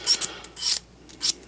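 Sandpaper rasps against the edges of an arrow nock for an Easton Axis arrow in several short, bright scratching strokes, close and fairly quiet, with brief pauses between passes.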